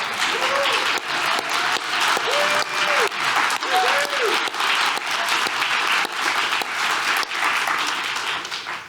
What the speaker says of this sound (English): we owe you a round of applause for your bravery